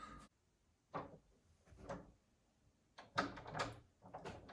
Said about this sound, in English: The door is stuck.